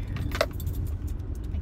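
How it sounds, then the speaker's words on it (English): Keys jingle close by in short metallic bursts over the low steady rumble of a car interior, a brief clatter that settles into quieter rattles. "Keys are just noise."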